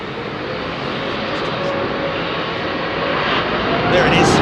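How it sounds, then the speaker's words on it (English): The Rolls-Royce engines of an Airbus A350 at London Heathrow roar and build steadily in pitch and loudness as they spool up, a broad rushing drone growing stronger toward the end. "Now listen to this 350's engines as she spools up."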